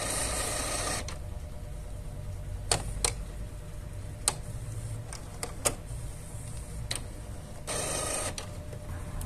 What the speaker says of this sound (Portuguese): o processo de limpeza já está sendo feito pela impressora. Se você levantar aqui, vai observar lá a mecânica girando.